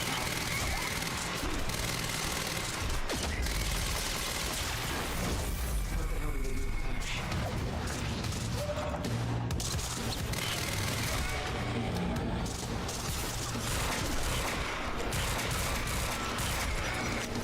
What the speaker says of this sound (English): The RoboCop pistol.